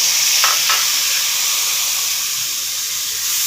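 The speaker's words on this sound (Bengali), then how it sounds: "মশলাগুলো নেড়ে চেড়ে 5 মিনিট কষিয়ে নেব" Spices sizzle loudly in hot oil for a bottle gourd curry with fish head, a constant close frying hiss broken early by a couple of quick stirring scrapes.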